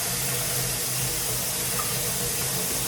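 Water filling a small basin with a capful of detergent for washing cashmere, a loud continuous rushing spray close by, steady and unbroken throughout.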